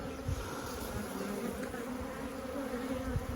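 A calm honey bee colony hums with a steady, dense buzz during a hive inspection in an apiary, close and continuous without a break.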